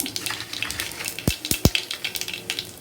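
Mustard seeds pop and splutter in hot oil as cumin goes in, a soft continuous crackle with a few sharper thuds or pops in the middle, close and fairly quiet with no talking.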